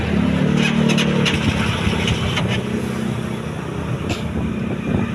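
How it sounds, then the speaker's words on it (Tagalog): A car engine idles steadily nearby, a low rumbling hum with a faint whine above it, holding constant throughout with no voices. "Yan yung sound check ng kanyang makina."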